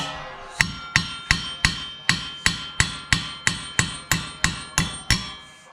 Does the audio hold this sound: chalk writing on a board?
no